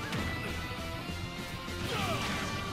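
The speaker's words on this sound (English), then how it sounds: "Oh, that was a forward air kill." Forward air kill hit in Super Smash Bros, a sharp game impact crash among busy game music and effects, fairly quiet overall, with no talking over it.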